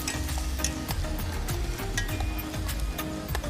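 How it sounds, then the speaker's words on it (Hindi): Onion and chili frying in oil over a riverside campfire, a steady close sizzle with faint stirring ticks running throughout, no voices. "तो हमारी यहाँ पे प्याज और मिर्च हम लोग तेल में उसको फ्राई कर रहे हैं"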